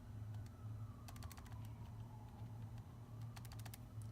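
Numbers being typed on a computer keyboard: scattered quick key clicks in short bursts over a faint low hum, quiet and close.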